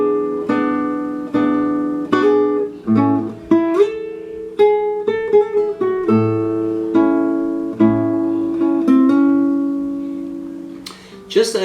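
A solo guitar plays measures 16 to 18 as a steady melody of plucked notes over ringing bass notes, each phrase decaying before the next, close and clear with no talking.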